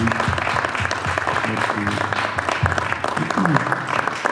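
A gathering of Congolese expatriates in London applauds together, a busy wash of clapping mixed with voices talking over it throughout.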